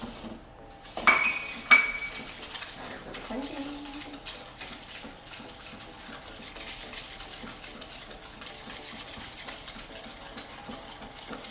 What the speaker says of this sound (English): We're going to mix the sugar.